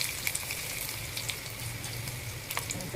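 Garlic, cumin, asafoetida and chili fry in hot oil for a tadka, giving a steady close crackling sizzle with scattered sharp pops and faint stirring.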